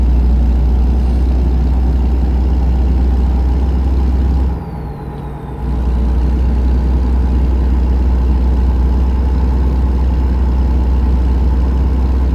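A truck engine in American Truck Simulator drones steadily and loudly with a deep, constant hum, dipping briefly midway before resuming the same unbroken running tone, with no talking.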